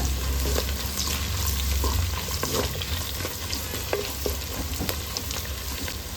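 Curry leaves and green chilies crackle and sizzle steadily in hot oil for a king fish curry, a continuous close frying hiss with brief pops and stirring scrapes, no voices.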